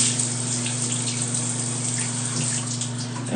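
A hotel bathroom shower at a TownePlace Suites runs steadily, a loud, continuous close-up hiss of spraying water with no pauses.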